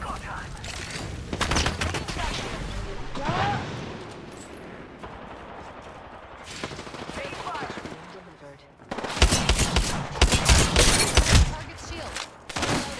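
Gunfire in the video game Apex Legends, bursts of rapid automatic shots and single cracks, loud and close, with heavier volleys near the end over game sound effects.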